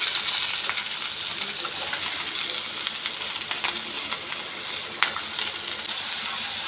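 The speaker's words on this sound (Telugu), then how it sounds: "లవంగాలు, ఇవి కొంచెం వేగించుకోవాలి." Cloves, onion and green chillies fry in a pan of oil with a continuous bright sizzle, broken by a few light clinks and scrapes of stirring.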